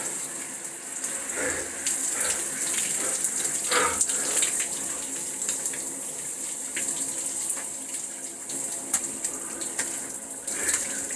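Cold water runs from a tap in a steady, splashing gush, close and continuous for several seconds with no talk.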